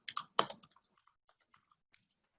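Close, quiet keystrokes on a computer keyboard: a quick burst of several taps, then scattered single clicks that thin out and fade.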